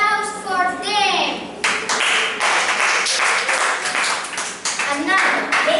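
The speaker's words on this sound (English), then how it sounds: "A big applause for them." Children's clapping at a kids' theatre workshop show, a dense, loud burst of hands mixed with children's voices and shouting throughout.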